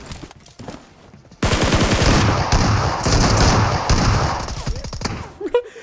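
Shotgun and Scar rifle shots in a battle royale video game break out as a loud, dense burst of rapid gunfire after a quieter start, then rattle on continuously before tapering off.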